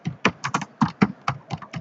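Keystrokes on a computer keyboard while HTML code is entered, about nine separate taps in an uneven typing rhythm, close and moderately loud, with no voice.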